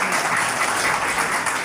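Parents applaud at a graduation ceremony in Haiti, producing steady, dense clapping from a crowd that sounds close and continuous.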